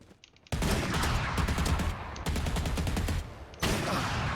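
Rapid bursts of automatic gunfire in a Valorant deathmatch, loud and close, in two long sustained volleys separated by brief gaps, with another burst starting at the end.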